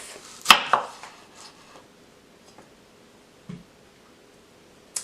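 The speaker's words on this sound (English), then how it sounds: "So let's cut the onion in half." Knife slicing a large peeled red onion in half, one crisp close cut with a knock on the board, followed by a few faint taps in near silence.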